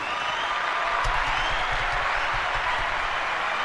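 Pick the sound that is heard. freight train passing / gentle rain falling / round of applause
round of applause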